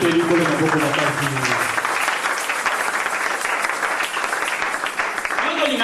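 A church congregation bursts into loud, sustained applause and cheering, dense clapping filling the room after a preacher's voice fades out at the start.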